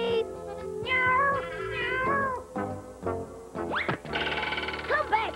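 A cat meows repeatedly in rising, drawn-out cries, close and loud, mixed with voices talking and some background music.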